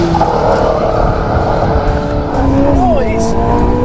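Jaguar C-X75 hybrid hypercar with its turbocharged and supercharged 1.6-litre engine, driven hard around a test circuit: a loud, continuous high-revving engine note with rising and falling pitch sweeps as the car accelerates and shifts.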